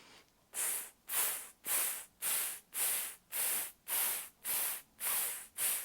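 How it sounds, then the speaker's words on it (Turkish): Nine short, even breath hisses from a singer in a diaphragm voice exercise, each a sharp sibilant burst with a brief pause after it, close and steady in rhythm. "Hadi kısa tısları da beraber yapalım."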